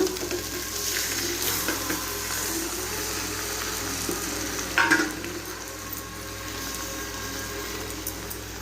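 Washed pieces of sheep blood sizzle and fry in a pan over a medium flame, a steady close crackle with a brief stir or clatter around the middle.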